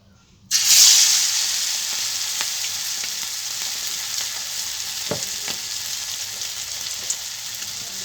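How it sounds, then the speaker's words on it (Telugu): Lentil vadas (garelu) dropped into hot oil for deep-frying, starting with a sudden loud burst of sizzling that settles into a steady, bubbling crackle with a few faint clinks. "సిమ్లో పెట్టుకున్న నూనె గారెలు వేసుకుంటా"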